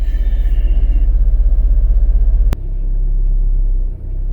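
A GM car with a 6T40 automatic transmission runs a relearn test with the brake held, giving a steady, pulsing low engine rumble, a sharp single clunk midway, then a smoother continuous drone.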